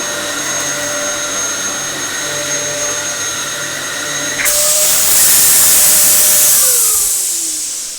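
Dyson upright vacuum cleaner running loud and close, a steady whining motor with tonal lines that jumps midway into a louder rushing hiss of airflow, then the pitch slides downward as it winds down.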